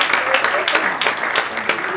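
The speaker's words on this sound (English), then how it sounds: "Can I have a round of applause for these two fine physicians?" Audience applause for two physicians at a Chabad tenth anniversary gala, a dense burst of clapping from a crowd, steady and fairly loud across the moment.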